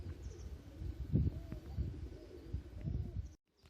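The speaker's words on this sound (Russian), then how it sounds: "Вот опять голуби спустились" Pigeons of Mordovian speckled and Perm breeds, coming down outdoors during a flying session, give soft, low cooing calls and light fluttering at close range over background noise, ending in a sudden cut to silence.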